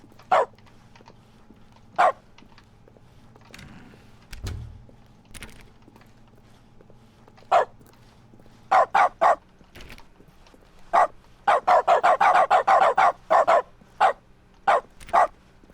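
A dog in The Stanley Parable video game barks in sharp single yaps spaced seconds apart, then a rapid flurry of barks, loud and close with quiet gaps between.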